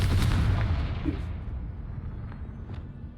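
The Confringo spell cast in Hogwarts Legacy, a loud fiery blast at the start whose boom decays away over a few seconds, followed by faint scattered clicks.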